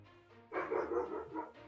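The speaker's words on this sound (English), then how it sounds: "Sorry, my dog is going crazy if you're hearing him." A dog barks and yips excitedly indoors in a short, loud burst that rises abruptly midway, rising above a faint background hum, with no talk over it.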